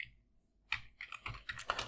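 Git config command being typed on a computer keyboard in a terminal: a quick burst of close, crisp key clacks after a brief quiet start, with no talking.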